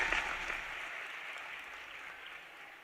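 Applause from an audience at a Madhya Pradesh government event with the Chief Minister, a dense, fairly faint wash of many hands clapping that starts slightly louder and tapers gradually.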